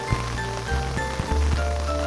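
Rain falls steadily as a soft, even hiss, with low tonal music or hum running under it and no speech.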